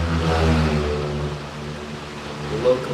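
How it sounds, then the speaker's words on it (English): Road traffic passing in the Philippines, a steady mid-level engine drone and whir of cars going by, with a brief louder swell near the end. "There's a lot of traffic going by."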